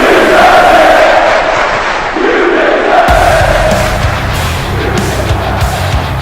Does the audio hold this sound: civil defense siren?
no